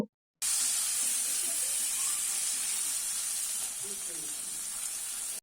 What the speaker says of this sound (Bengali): তেলটা গরম হলে আমি নুন হলুদ মাখিয়ে রাখা চিংড়ি মাছগুলো ভেজে নেব।